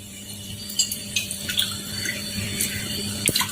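Water is poured into a cooking pot on a stove in a home kitchen, a soft splashing stream with a few louder gurgles, close and quiet.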